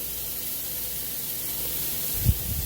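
Fish starts cooking in a hot pan with a steady, even hiss of frying that carries on alone, with one soft low thump near the end.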